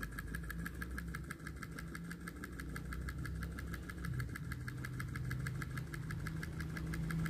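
A miniature Dongfeng diesel engine runs steadily nearby with a fast, even, knocking rhythm and a constant mechanical rattle that holds throughout.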